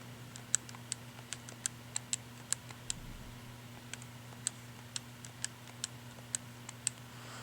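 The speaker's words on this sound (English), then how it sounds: "all I've done is typed in this matrix into my graphing calculator" Graphing calculator keys pressed one at a time as numbers are entered, giving sharp, faint, evenly spaced clicks over a steady low hum in a quiet room.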